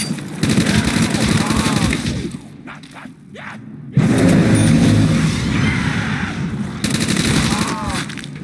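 Galil rifle fire in Call of Duty World at War custom zombies, long sustained bursts of loud close shots that break off briefly around the middle, then resume hard with overlapping whooshes.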